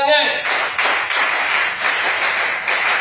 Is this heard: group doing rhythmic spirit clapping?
yes